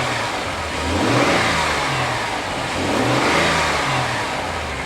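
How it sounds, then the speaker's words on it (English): A car engine sitting at a salvage auction lot revs up twice from idle, two loud rising and falling swells close to the microphone with no talking. "Let's give it a little rev."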